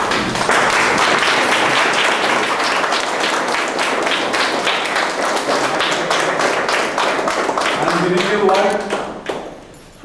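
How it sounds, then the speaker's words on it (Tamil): A large crowd claps steadily and densely for several seconds, standing to welcome a speaker at a public event about fighting corruption, the applause thinning out near the end. "அவரை வந்து நீங்க எல்லாரும் எந்திரிச்சு நின்று கைத்தட்டி அவர் வரவேற்க."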